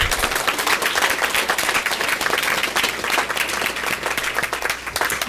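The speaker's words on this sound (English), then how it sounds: "can we give them one more round of applause" Sustained applause from an audience at a board of education meeting, dense clapping that carries steadily from start to finish.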